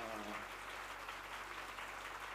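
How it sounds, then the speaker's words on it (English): Audience applause at a live anniversary event, a steady wash of clapping from a crowd, moderately faint and continuous for a couple of seconds. "And I give them all a big round of applause."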